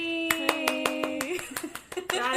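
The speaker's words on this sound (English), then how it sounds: "Round of applause." A round of applause comes from a single person clapping about a dozen times in an uneven rhythm, close and fairly loud, while someone hums or vocalises underneath.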